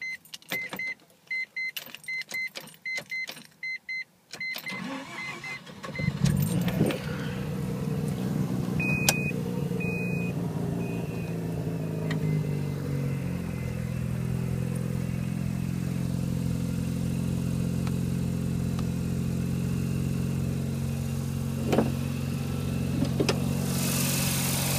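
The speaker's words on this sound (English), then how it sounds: "I'm going to start the car." A Mazda RX-7's rotary engine cranks with a brief starter whir, fires up, then settles into a steady, loud idle with a rising low hum that continues to the end.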